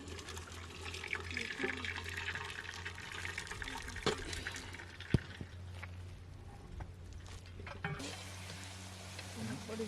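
Water is drained off boiled bottle gourd in a village kitchen, a quiet, continuous trickling and splashing over a low background hum, with a sharper clink midway.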